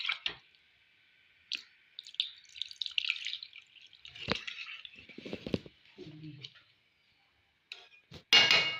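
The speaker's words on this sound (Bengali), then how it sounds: "এবার জল দেবো," Water is added to a cooking pot of pulao with fried rice, nuts, capsicum, carrot and beans. Quiet, intermittent drips and splashes lead up to a louder pouring burst at the end.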